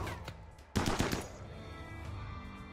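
Defensive turrets in a colony-building game fire at enemies, a sudden cluster of rapid gunshots followed by echoing decay, with faint quieter shots before and after.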